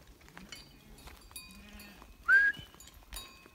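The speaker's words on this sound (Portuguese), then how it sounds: "Colocando aqui as ovelhas na roça, né?" Sheep bleat while being put out to pasture on a farm, with goats and kids nearby; one loud, clear bleat stands out amid fainter calls and soft farmyard movement.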